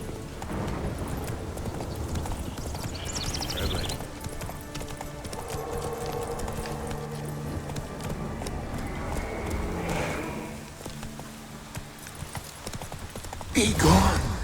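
Rapid hooves clip-clop as the horse Roach gallops in the video game The Witcher 3, a steady rhythmic beat running under spoken dialogue throughout.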